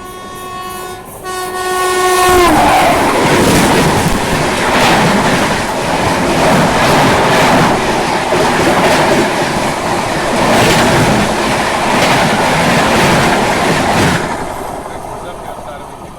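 Indian Railways Sairang Rajdhani Express rolling on rails, opening with a loud horn blast before the steady, close rumble and rattle of passing coaches fills the rest, easing off near the end.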